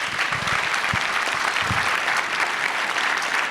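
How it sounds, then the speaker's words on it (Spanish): An audience at a public transport financing panel breaks into sustained applause, a dense wash of clapping with a few sharper individual claps standing out, fairly loud and without speech. "Eso merece un aplauso."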